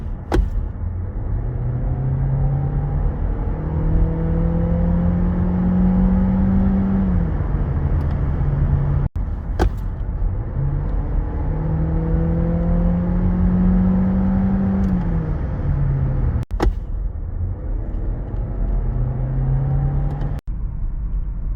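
A Skoda Octavia 1.5 TSI e-Tec mild hybrid with a 150 hp engine and seven-speed DSG gearbox accelerates hard on kickdown. The loud engine drone climbs in pitch, drops briefly at each gear change and climbs again, with no talking.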